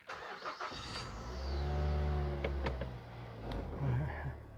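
A 2006 Mazda 3 with a 2.3-litre engine cranks and starts, settling into a steady close idle with a low hum that continues for several seconds.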